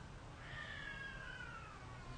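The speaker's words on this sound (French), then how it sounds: "il y a des chats qui se battent dehors" Cats fighting outdoors let out one long, wavering caterwaul that rises and then slowly falls. It sounds faint and distant over a constant low background hiss.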